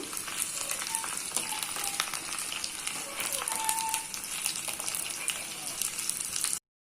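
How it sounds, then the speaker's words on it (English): Finely chopped garlic frying in hot ghee gives a steady, close crackling sizzle with scattered pops that carries on evenly throughout before cutting off abruptly. "So let us fry this garlic till it becomes slightly brown."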